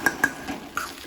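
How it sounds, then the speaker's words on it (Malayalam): A utensil stirring salt into papada ada batter in a bowl for a traditional Kerala snack, giving a few quick light clinks and scrapes, close and brief, with no talking. "അതെല്ലാം എടുത്തൊന്ന് മിക്സ് ചെയ്ത് കൊടുക്കാം"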